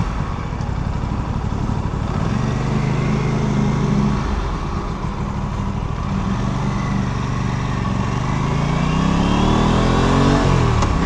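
An Aprilia RS 457 motorcycle engine hums up close on a night ride in eco mode, its pitch rising and falling through repeated revs and gear changes over steady road and wind noise.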